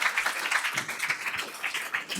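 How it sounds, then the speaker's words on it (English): Audience applause at an award ceremony for the M3 Challenge final event, a dense, steady patter of many hands clapping throughout, moderately loud and continuous. "let's give a round of applause for MathWorks"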